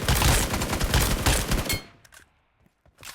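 Gunfire in the video game PUBG Mobile: a loud, rapid automatic burst lasting about two seconds, then silence broken by a few faint, scattered shots.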